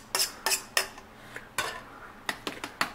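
A Keith Titanium Ti6016 pan is handled and tipped to empty out water, giving several sharp, close metallic clanks and knocks with splashy pauses between them.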